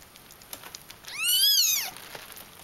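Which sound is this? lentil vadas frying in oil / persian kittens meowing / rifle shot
persian kittens meowing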